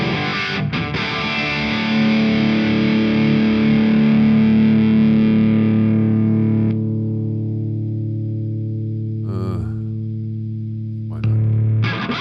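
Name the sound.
electric guitar through IK Amplitube 4 amp simulator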